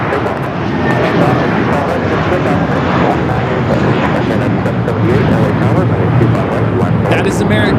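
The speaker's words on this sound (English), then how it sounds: "taking off to Dallas Fort Worth on the A321" An American Airlines A321 airliner takes off at LAX, a loud, continuous engine roar and rumble held throughout, with people talking over it.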